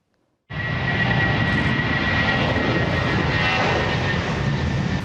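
A jet aircraft engine bursts in after a moment of silence and holds a loud, steady roar with a high whining tone running through it.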